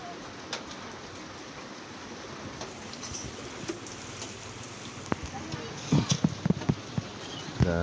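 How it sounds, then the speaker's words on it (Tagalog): Heavy rain pours during a typhoon as a steady, dense hiss, with scattered drips and sharper taps on a surface growing more frequent toward the end. "Sobrang lakas ng ulan, guys."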